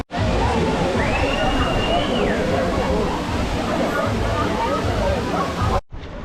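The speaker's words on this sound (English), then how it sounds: "Here's the waterfall" A waterfall near Marrakech gives a constant, loud rushing roar from close by, with crowd chatter blended in, before it cuts off abruptly near the end.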